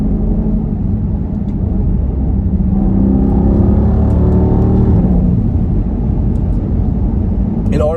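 A Jeep Grand Cherokee SRT engine rumbles steadily while driving on a rough road, with rising and falling revs as it downshifts through quick gear changes, loud and continuous throughout.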